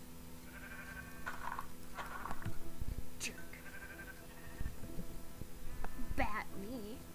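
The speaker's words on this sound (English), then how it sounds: "I want to kill you, sheep." Sheep bleat in the video game Minecraft, short repeated bleats scattered through the passage, heard among voices talking over them.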